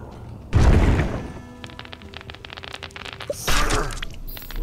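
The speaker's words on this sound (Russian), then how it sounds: "Взрываем это вулканическое создание." A volcanic creature blows up in the video game Supraland, a sudden loud booming burst that decays over about a second, followed by scattered clicks and a second noisy burst near the end.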